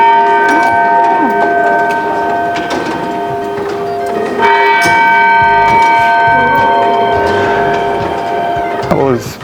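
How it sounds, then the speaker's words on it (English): Salisbury Cathedral's medieval clock mechanism of cogs, stones and weights sounds its bell, a loud ringing tone with sustained overtones that swells and decays across the span while people talk nearby. "it was fascinating to see all the cogs and all the stones and all the weights and everything that had to come together just to ring a bell"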